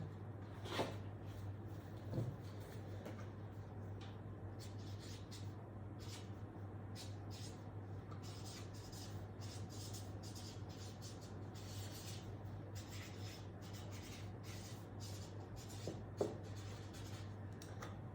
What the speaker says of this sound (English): I'm actually going to write it down here.